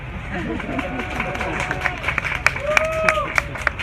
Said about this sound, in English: Sometimes people clap